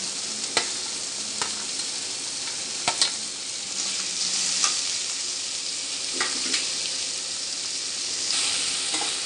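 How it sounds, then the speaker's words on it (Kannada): Sliced onion and green chillies fry in a pan with a steady, close sizzle, punctuated by sharp taps and scrapes of a spatula stirring every few seconds; no one speaks. "ಆನಿಯನ್ ಮತ್ತು ಹಸಿಮೆಣಸಿನಕಾಯಿ ಸ್ವಲ್ಪ ಫ್ರೈ ಮಾಡಬೇಕು."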